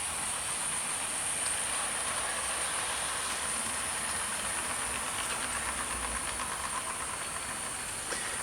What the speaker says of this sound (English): That back Gresley coach is making a bit of a funny noise